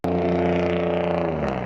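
A loud car with no proper exhaust roars past close by, its engine drone steady and harsh before it begins to fade, with no talk over it.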